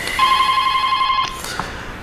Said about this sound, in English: We got a phone call.